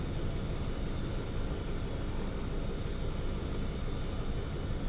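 An Antonov An-2 biplane's radial piston engine drones in Microsoft Flight Simulator 2020, a steady, loud, unbroken roar with no talk over it.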